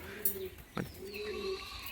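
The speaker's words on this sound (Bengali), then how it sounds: "প্রচণ্ড ছটফট করছে এই সমস্ত পায়রা ডানায় বিশাল পরিমাণে ভাইব্রেশন" Giribaz high-flying pigeons coo softly in low repeated notes with a brief burst of wing flapping, faint and close, with no talking.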